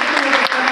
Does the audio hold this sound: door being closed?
no